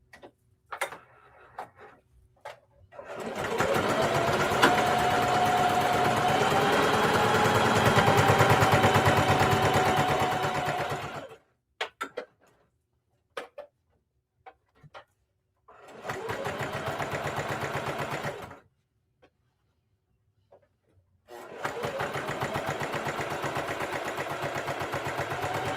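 Sewing machine stitching a straight line on a fabric handbag, running in three long, steady rattling bursts separated by pauses with faint clicks of handling between them.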